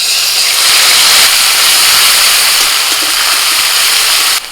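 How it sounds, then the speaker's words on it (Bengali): A ground paste of coriander leaves, green chili and garlic hitting hot oil left from frying eggplant, with black cumin seeds, bursting into a loud, steady close-up sizzling hiss that cuts off abruptly at the end. "ধনে পাতা কাঁচা লঙ্কা আর রসুন একসাথে বাঁটা আছে এটা দিয়ে দিচ্ছি"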